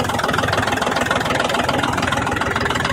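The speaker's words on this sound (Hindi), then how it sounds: "क्या शानदार कलर है, आवाज कितनी शानदार है ट्रैक्टर की," A Mahindra DI diesel tractor idles close by, a loud, steady, rough engine throb with a fast even pulse and no break in the sound.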